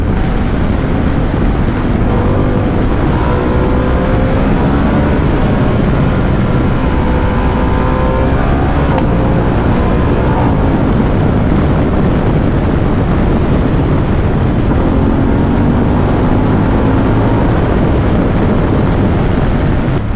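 A Harley-Davidson motorcycle engine held in its upper RPM range, a steady loud drone with shifting harmonic tones swelling and falling, overlaid by heavy wind rush throughout.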